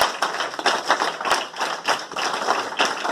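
An audience claps together at a felicitation ceremony during a science lecture event, a steady, dense patter of many hands that swells and dips in waves for about three seconds without any voices.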